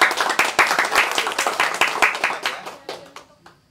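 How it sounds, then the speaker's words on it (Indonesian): Audience clapping and applause for Anissa, a young university athlete and first-place Porkab champion, on a campus talk show; dense rapid hand claps close by, fading over the last second. "tepuk tangan dong buat Anissa"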